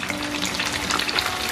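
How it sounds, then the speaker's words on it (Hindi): Chicken pieces fry in cooking oil on a stovetop, giving a close, continuous crackling sizzle with fine popping throughout. "दो मिनट के लिए मैं इसी आंच पर चिकन को फ्राई होने दूंगा।"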